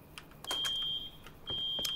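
An audio alarm in the game Rust sounds two sustained high-pitched electronic beeps, each about half a second long, separated by a short gap. A few faint clicks surround the tones, and there is no talking.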